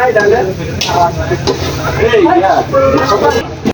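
Shutki bhorta of dried fish with chilli, turmeric and salt being stir-fried in a pan, a steady scraping and sizzling with busy stirring throughout, close and fairly loud, with voices talking over it.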